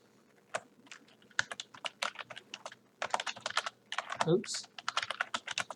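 Quick bursts of typing on a computer keyboard, close crisp key clicks in irregular runs, with a brief spoken word partway through.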